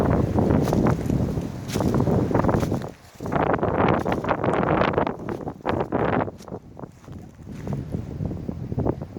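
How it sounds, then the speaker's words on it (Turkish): Strong, stormy autumn wind roars outdoors on a countryside walk near Bartın, buffeting the microphone in loud continuous gusts with a brief lull about a third of the way through. "Fırtına, rüzgar, kıyamet kopuyor."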